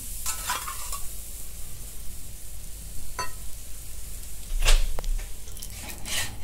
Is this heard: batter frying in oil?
yes